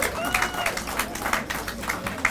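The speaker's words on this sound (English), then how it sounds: "Can we give them a round of applause," Audience at a Spectre film premiere in Nairobi clapping together, a short, moderately loud round of applause with a faint voice and a high whine running underneath.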